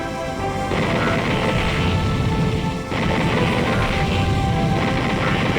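In the shoot-'em-up arcade game Ikaruga, a loud, dense barrage of rapid shots and explosions plays continuously as enemies are destroyed in quick succession, with a brief dip partway through.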